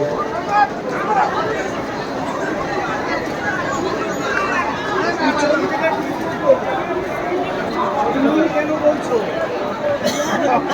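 Passengers throng around a Katwa local train, producing a constant close hubbub of many voices with occasional louder calls and bumps throughout.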